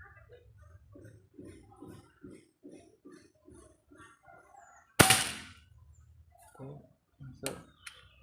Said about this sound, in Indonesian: Tes tembak dulu.